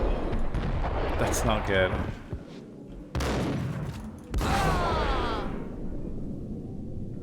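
Sawn-off shotgun fire in the Max Payne video game: loud, booming blasts with a bursting, echoing quality, a few heavy shots spaced across the clip, with someone speaking briefly over them.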